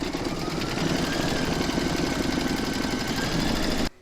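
An embroidery machine stitches a second round on doll fabric, a loud, close, steady mechanical whir and rapid needle chatter that stops abruptly at the end.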